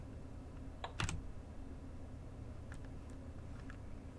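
Computer keyboard keys tapped during a Blood Omen: Legacy of Kain game session, a few quick clicks close together near the one-second mark, then sparse faint taps over a low steady background hum.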